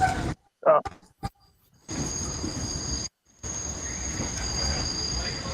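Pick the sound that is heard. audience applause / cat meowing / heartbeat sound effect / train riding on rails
train riding on rails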